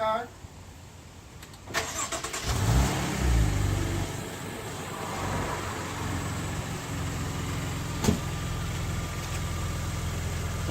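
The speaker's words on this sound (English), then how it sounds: "I'll start the car." A 2014 Maserati Ghibli SQ4 engine cranks briefly and catches, swelling into a steady, close idle that runs on with a faint click partway through and no talk over it.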